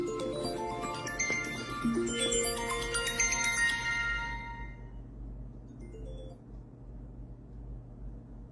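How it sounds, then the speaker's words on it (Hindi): A phone rings with a bright, tonal ringtone melody for about four seconds during a live address, then stops, leaving a low steady background hum. "फोन आ गया था"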